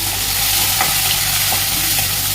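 Small onions frying and being stirred in a pan for a dry anchovy fish gravy, with a steady, dense sizzle throughout and a few soft stirring knocks, no talking.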